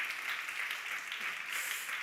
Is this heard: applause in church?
yes